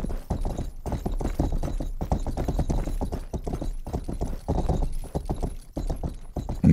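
Horse hooves clip-clop steadily in the video game Rustler, a close, regular rhythm of hoof strikes with brief pauses, heard alone without talk.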